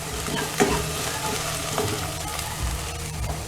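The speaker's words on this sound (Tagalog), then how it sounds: "Tapos, ito, luto na ako ng sauce ng spaghetti ng pasta." Spaghetti sauce with hotdog sizzles and bubbles in a pan, a steady close frying hiss broken by a couple of stirring scrapes.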